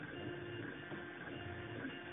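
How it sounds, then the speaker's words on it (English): A MakerBot Replicator 2 Experimental 3D printer runs steadily through a print, giving a continuous mechanical whir with faint stepper-motor tones, close and even, with no voices. "MakerBot Replicator 2 Experimental 3D Printer."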